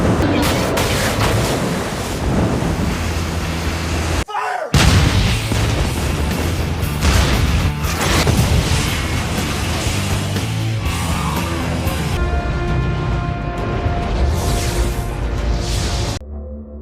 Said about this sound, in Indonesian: Alex langsung memerintahkan krunya untuk menembakkan seluruh meriam itu ke kapal musuh